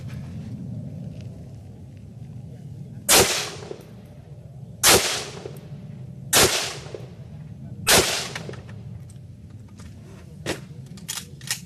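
Four separate loud gunshots from a machine gun firing 150-grain NATO rounds into armor plates at an outdoor range, spaced about a second and a half apart, each with a sharp crack and short ringing tail.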